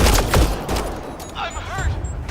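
Gunfire in the video game Mass Effect: Andromeda, a loud burst of rapid shots at the start fading into rumbling, with a voice heard partway through.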